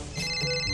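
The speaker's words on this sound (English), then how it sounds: "I have new phone call." A phone ringtone goes off inside the horror video game Ice Scream Chapter 3, a short, steady electronic ring that carries on at an even level through the whole brief moment.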